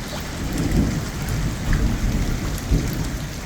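Heavy rain pouring during a thunderstorm that flooded the city of Durrës, a dense continuous hiss of rain with low rumbling thunder rolling underneath, loud and close, no voices.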